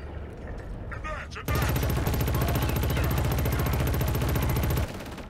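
Sustained automatic rifle fire in the shooter Killzone: Shadow Fall, a loud unbroken stream of rapid shots lasting several seconds before stopping abruptly, preceded by quieter game sounds.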